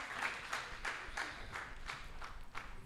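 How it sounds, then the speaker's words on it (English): An audience applauds the board chairman of the Uganda Bureau of Statistics at a formal report launch, a steady spread of hand claps with rhythmic bursts, moderately distant and continuous for about three seconds with no talk. "Can we give him a big hand clap as he signs?"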